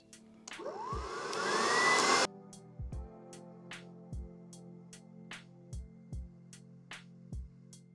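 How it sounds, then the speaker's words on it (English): Hair dryer fitted with a comb attachment drying hair after a silk press, a steady blowing roar for about two seconds that cuts off, followed by a series of soft clicks and taps. "we're gonna pre-dry and then go back in with the comb attachment and dry the hair"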